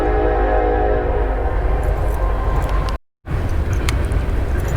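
Train rolling past close by near a small lake, loud continuous rumble and rail clatter with a short dropout midway, no talk.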